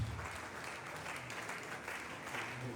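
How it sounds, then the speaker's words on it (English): A summit crowd in Benin breaks into a round of applause for the convener, a dense, steady roar of many hands clapping throughout, fairly close and unbroken. "Please can we give our convener another thunderous round of applause?"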